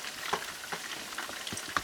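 Fish pieces coated in batter fry in a pan, giving a soft, steady crackle with occasional brief pops and scrapes, moderately close and with no voices.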